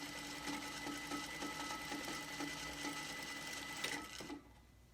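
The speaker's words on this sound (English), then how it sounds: "Tip number 4, chain sewing." Sewing machine chain sewing N95 masks, a steady rapid stitching rhythm up close, stopping abruptly just before the end.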